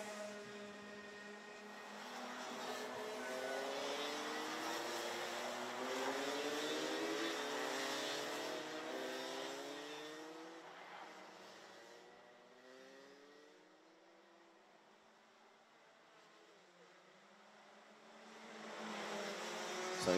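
Rotax karts race through the final lap of a Dutch Championship round at Kartclub Kerpen, their engines droning and rising and falling in pitch as they pass, with a steady buzzing whine heard at a distance.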